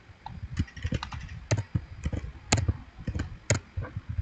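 Computer keyboard typing with key presses including Enter during spreadsheet copy-paste work, a close run of irregular clicks and taps with several sharper, louder keystrokes spaced about a second apart.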